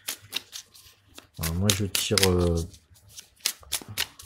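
Tarot cards being shuffled for a final advice card, a riffling burst of papery flutters close by, with someone speaking briefly in French before and after.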